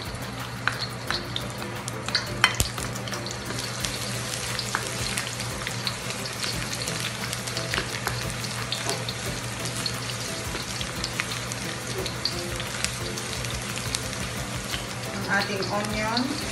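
Garlic sizzles steadily in a hot pan for a beef caldereta, with a continuous crackling fry and occasional stirring clinks, a low hum underneath.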